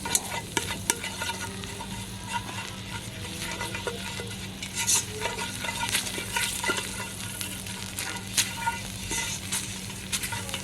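Panang curry paste sizzling and frying in a pan over a campfire fire pit, with a steady crackling hiss and occasional scrapes and clinks of stirring throughout, no voices.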